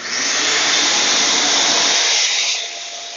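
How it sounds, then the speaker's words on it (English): A shop vacuum fitted with a dust cyclone separator bucket roars loudly and steadily, then its pitch drops and the noise eases slightly near the end. "turn the vacuum on and I'll vacuum this up, and the majority of that dust should end up in this bucket"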